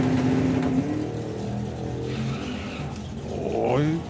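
A Ford Capri drag car runs at speed down the strip at a Mopar Euro Nationals event, its engine roaring loud and steady, with a rising pitch sweep near the end as it pulls hard.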